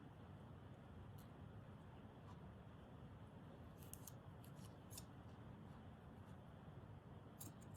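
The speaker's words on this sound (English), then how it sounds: "I actually need 2, so I'll just cut past a little bit. Cut out 2." Scissors snip through fabric pieces for a stitched village schoolhouse scene, a few quiet, crisp cuts in short clusters over a faint steady background hiss.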